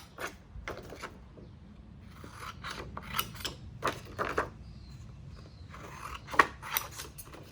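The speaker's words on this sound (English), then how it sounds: "I'm going to take my scissors and I'm going to cut down just to the square" Scissors snip through material in a run of crisp, close cuts, with short pauses between snips while building a wind turbine.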